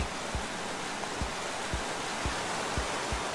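Steady rushing water of a waterfall in the video game Minecraft: Story Mode, a broad continuous roar with soft low thumps recurring every half second or so, no voices present.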